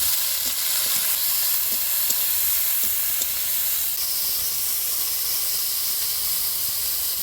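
Vegetables, bitter gourd and potato seasoned with salt and turmeric, fry in oil in a pan over a village cooking fire. A steady, close hiss of frying runs throughout, broken by light scrapes and taps from stirring.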